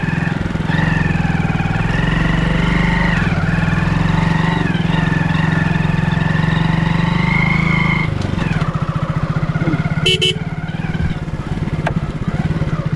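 A motorcycle rides over a rough, rugged road near a temple in Hooghly district, its engine droning loud and steady close by, with bumps and a short rattling clatter partway through.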